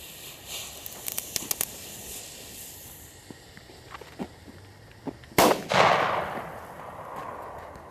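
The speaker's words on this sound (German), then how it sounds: "Flashbang." Flashbang firework at a New Year's Eve display: a few sharp crackles early, then one loud, sudden bang with a short, fading rumbling tail, heard alone against quiet background.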